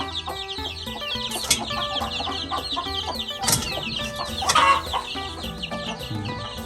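Hens cluck steadily with overlapping calls from several birds, a busy chorus at a chicken breeding farm, with occasional louder squawks and no talking.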